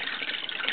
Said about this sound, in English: there's a filter that runs 24/7 that helps to aerate the water